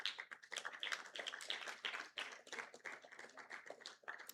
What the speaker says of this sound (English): Please keep the applause going until he gets here